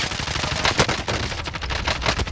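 Rapid automatic gunfire in a Warzone-style online shooter, a dense burst of close, loud shots lasting a couple of seconds with no voices over it.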